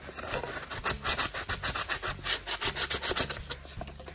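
Sandpaper rubbing back and forth inside a homemade plastic musky tackle box, a close, steady series of rasping strokes about two or three per second with no talk.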